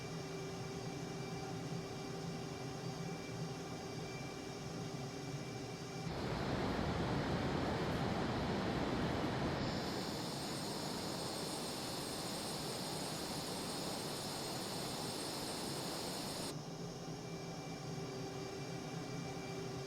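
An F-117A Nighthawk stealth jet in Microsoft Flight Simulator 2020 roars through a loud broadband engine rush that swells for about ten seconds, then drops back to a steady lower whine.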